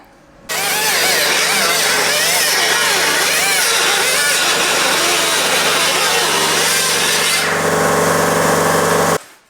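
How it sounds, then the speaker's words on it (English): An angle grinder flattens a fresh seam weld on a Vespa scooter's steel body, a loud continuous whine that wavers as the disc bites, running steadily for about nine seconds before cutting off. "Seam welded that on now, so I can grind that flat and apply the zinc primer."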